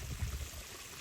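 Water from a pond filter pours back into a garden pond, a steady close splashing trickle with a low churning rumble, continuous and alone.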